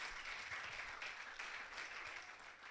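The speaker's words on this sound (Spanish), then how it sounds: "Denle una ofrenda de palmas al Rey, hermano, en el nombre de Jesús." A church congregation claps and applauds during a sermon, a steady, even wash of clapping that sounds somewhat distant throughout.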